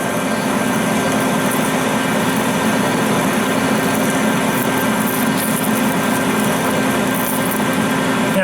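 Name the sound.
lathe motor straining while parting off with Accusize parting tool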